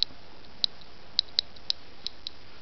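Irregular, sharp ticks come from the speaker of an SBM-20 Geiger counter sitting next to a piece of uranium glass. About seven clicks are spread unevenly across the moment, each bright and brief, against a faint steady hiss.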